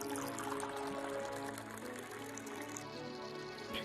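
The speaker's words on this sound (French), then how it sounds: "On met une bouteille, on ouvre le robinet." Liquor runs from a tap into a glass bottle in the Medieval Dynasty VR game, a steady continuous trickling pour that fills the clip at moderate level without talk.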